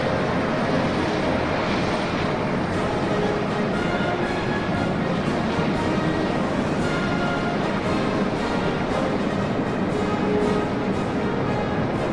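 Loud, continuous roar of a formation of 24 military helicopters passing overhead at a 2017 Chinese military parade, a dense unbroken drone with no other sounds.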